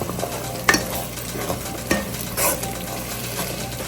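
Puree goes into a simmering prawn curry in a pan and is stirred in, giving a soft bubbling sizzle with a few sharp spoon scrapes and knocks against the pan.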